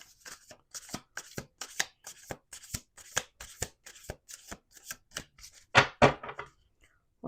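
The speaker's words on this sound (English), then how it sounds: "2 more shuffles." Crisp riffling and snapping of a deck of cards being shuffled repeatedly, in quick bursts with short pauses between.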